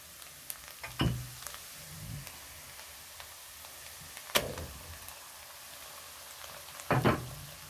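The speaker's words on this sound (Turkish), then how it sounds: "Doğradığım hindi etlerini de ilave edip kavurmaya devam edeceğim." Diced turkey meat sizzles quietly in a pot under a soft, steady hiss, broken by a few sharp clinks and scrapes of stirring.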